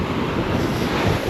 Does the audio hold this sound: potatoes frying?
no